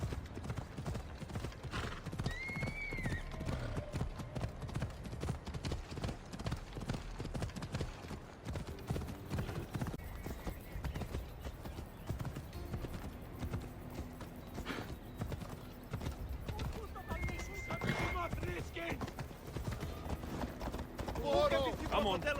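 Horse hooves clip-clop steadily throughout in Assassin's Creed Odyssey, with occasional neighs and whinnies rising over the gallop and a voice speaking intermittently.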